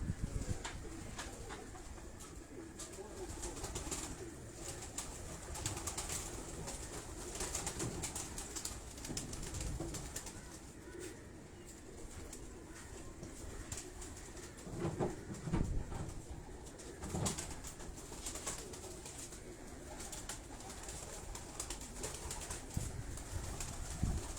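Pigeons at a breeder's loft keep up a low continuous cooing murmur over a noisy background, with scattered faint clicks and flutters.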